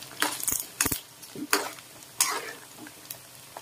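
Pork fat rendering in a pan for the Ilocano dish sinamitan, crackling and sizzling in its own oil while being stirred, with sharp scraping clinks of a utensil against the pan at uneven intervals.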